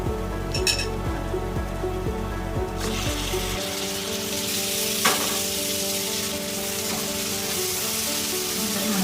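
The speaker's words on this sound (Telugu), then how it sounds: "వేగిపోయింది ఇప్పుడు టమాటాలు వేసుకోవాలి" Tomatoes frying in hot oil for a mutton and drumstick curry, a steady close sizzle with stirring clinks and a louder burst as they hit the pan early on.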